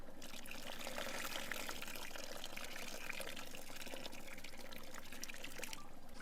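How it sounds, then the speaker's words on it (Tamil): Water splashes steadily into a pot of dried fish curry being cooked, a soft continuous pouring and trickling noise that stays faint and even throughout. "நல்லா தண்ணி எடுத்து போடுங்க"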